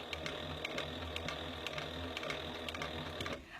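A sewing machine stitches steadily around the corner of a fabric bag, a continuous mechanical whir with a rhythmic needle clatter, close and even throughout.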